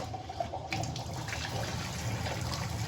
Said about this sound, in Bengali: ডালটা ধুয়ে নিচ্ছি। চাল ডাল ধুয়ে বসিয়ে দিব ভাত ডাল।